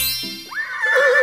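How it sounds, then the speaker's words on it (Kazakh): A domestic horse gives a brief, shrill neigh that rises and wavers, a single close whinny lasting about a second. "Мынау жылқы. Жылқы үй жануары."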